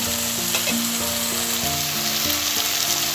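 Tomatoes and onions sauté in a pan with a constant, dense sizzle and occasional soft stirring scrapes, close and steady throughout.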